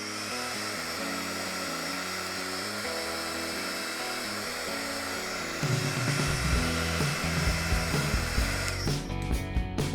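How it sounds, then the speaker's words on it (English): A heat gun drying Inka Gold on crushed ice crystals, giving a steady, loud whirring hiss that turns rougher and louder partway through, with no talking. "You then take your heat gun"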